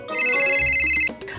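A telephone rings as a call connects in a Minecraft roleplay, one loud bright electronic ringtone burst lasting about a second before cutting off.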